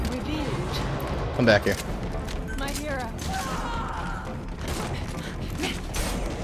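Gunfire in Metal Gear Online crackles in a steady stream of shots and mechanical clatter over constant game noise, with players shouting over it.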